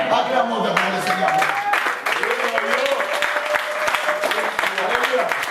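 Church congregation clapping and acclaiming during a worship service, sustained applause with a voice and musical tones running through it.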